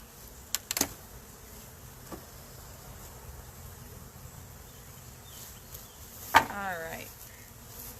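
Honey bees buzz steadily around an open hive, a faint continuous drone with a few sharp knocks and brief louder passes close by.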